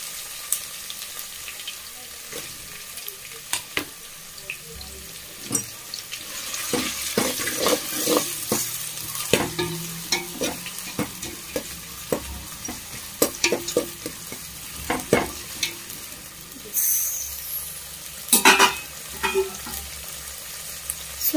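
Onions and green chillies frying in a pan, stirred with a spoon: sizzle underneath repeated scraping and clinking strokes of the spoon against the metal, close, with no talk.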